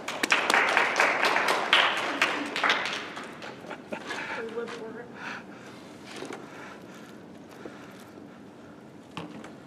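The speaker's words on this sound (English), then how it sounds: "Round of applause once again for my assistants." Applause from a small audience at a culinary arts sushi demonstration, loud at first and fading over several seconds, with voices talking over and after it.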